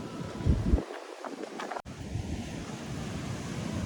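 Steady roar of surf washing onto Devbag beach in Konkan, mixed with wind buffeting the microphone, continuous throughout with a brief dropout partway.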